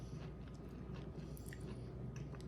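Homemade dilled green beans are chewed with soft, repeated crunches and squishy bites, faint and close, in a quiet room with no talking.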